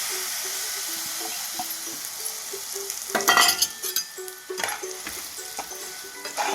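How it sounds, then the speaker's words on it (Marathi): Jaggery stirred and sautéed in hot ghee in a pan, a close bubbling sizzle with louder bursts of spoon scraping and stirring, plus a faint tonal hum in the background. "गूळ आपल्याला तोपर्यंत परतायचा आहे जोपर्यंत गुळाचा पाक तयार होत नाही"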